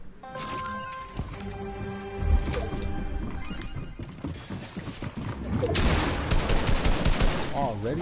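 Gunfire from the battle-royale video game Fortnite, bursts of rapid shots with impacts and crashes mixed over game music, loud and busy for several seconds, with no talk.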